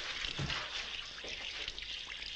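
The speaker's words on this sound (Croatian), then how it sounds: "Pogledaj, na sve strane voda piša." Water sprays and hisses steadily from a leak in all directions, a broad rushing splash with small spattering bursts.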